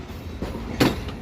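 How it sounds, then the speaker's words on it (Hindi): The Pak Business Express passenger train pulls into Hyderabad Junction railway station, a close rumble of rolling stock with rhythmic wheel clatter and a sharp clank, without any voices. "down park business express arrival कर रही है हैदराबाद जंक्शन रेलवे स्टेशन पर"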